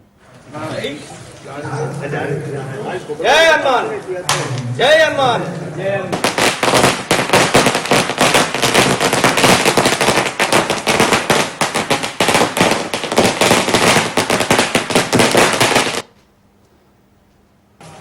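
A long string of firecrackers bursts in rapid, loud crackling pops for over ten seconds at a Hanuman temple, preceded by voices talking and shouting nearby.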